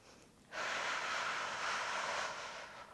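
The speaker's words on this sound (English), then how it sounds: "we'll do 3 more nice big breaths" Someone breathes deeply during a Pilates core workout with a magic circle. After a quiet start, a long, steady, airy exhale rushes in and holds close and even for a couple of seconds before easing off.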